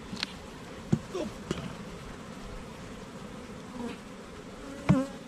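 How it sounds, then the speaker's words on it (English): Honey bees buzz in an opened hive during spring inspection, a dense continuous drone with a few soft knocks and handling thumps, close and steady throughout. "You're not going to mash too many bees like that."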